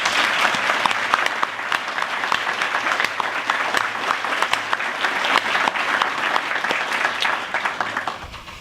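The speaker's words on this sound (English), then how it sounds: "Please give them one more round of applause." Sustained applause from an audience at an energy excellence awards ceremony honouring finalists and winners: dense, even clapping at a steady level that tapers slightly at the very end.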